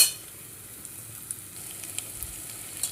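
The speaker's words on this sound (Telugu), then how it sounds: "కారం వేసిన తర్వాత కొద్దిసేపు మగ్గనివ్వాలి" Curry mixture with chili powder stirred in, simmering and sizzling softly in a pan, a steady low hiss broken by a few faint spoon taps and small pops.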